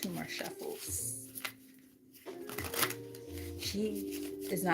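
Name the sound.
shuffling tarot cards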